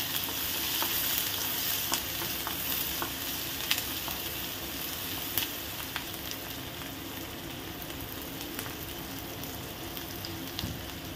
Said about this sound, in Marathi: 1 मोठा चिरलेला कांदा, छान फ्राय करून घेऊ।